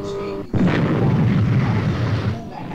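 A weapon firing sound effect from the Stingray puppet series: a sudden loud blast that breaks into a rumbling roar and fades over about two seconds.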